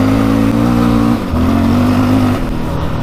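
A 700cc quad ATV engine revs loud and close, its steady drone dipping briefly between two sustained throttle holds.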